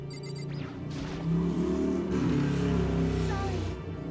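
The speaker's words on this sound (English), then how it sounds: "did you guys hear that motorcycle outside? That was, like, so ridiculously loud." A loud motorcycle roars past outside in the video game Danganronpa: Trigger Happy Havoc. Its engine swells and fades over several seconds, steady and fairly close, over a low background hum.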